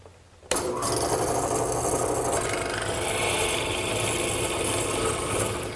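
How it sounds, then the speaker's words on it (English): A drill press drives a hollow mortising chisel down into wood for a garden bench rail. It gives one loud, continuous rasping cut that starts abruptly and grinds steadily throughout. "as the drill press pushes down, the drill will start the hole and the chisel will square it up"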